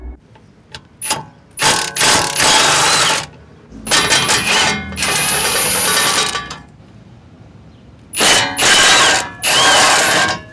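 A ratcheting power tool with a 10 mm socket spins bolts off the fuel tank heat shield of a 1997–1998 Jeep Grand Cherokee, running in several loud, close bursts separated by short pauses.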